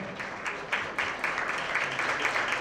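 Audience applause at an athletic excellence banquet in Vineland, a steady patter of many hands clapping at moderate distance, swelling slightly in waves and continuing throughout.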